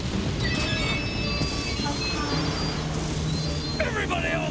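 A cartoon Orient Express train runs with a continuous rumbling rattle and faint high squeals, heard alongside other cartoon sound effects.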